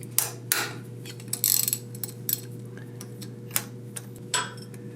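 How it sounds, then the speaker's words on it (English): Socket wrench on an extension loosening a 17 mm bolt on a John Deere 755 tractor: scattered close metallic clicks and taps, a few sharper knocks and ratcheting bursts against a low steady hum. "you can use an extension and a socket, 17 millimeter, to get in there and loosen it up"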